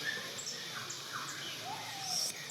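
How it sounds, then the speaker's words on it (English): Birds call at Parque das Aves bird park near Iguazu Falls, with faint high chirps and whistles over a soft outdoor background hiss. "And there's another bird right there."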